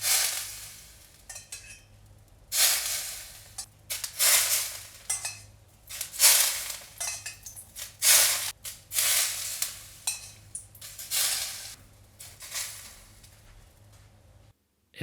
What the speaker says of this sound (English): you'll hear it sizzle and start to sear the hamachi